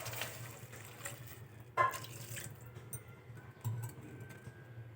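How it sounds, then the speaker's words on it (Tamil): Water poured into a pan of carrot and bean stir-fry (poriyal) as it cooks, a soft splash and trickle over a steady low hum, with a couple of louder pours, no talk. "தண்ணி ஆட் பண்ணிக்க."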